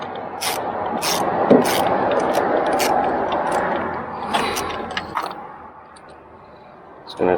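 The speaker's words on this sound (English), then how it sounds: "Turn this ratchet the other way." A ratchet wrench works the spark plugs out of an R56 MINI John Cooper Works engine, giving a rough run of clicking strokes in short bursts. Someone talks close by in between.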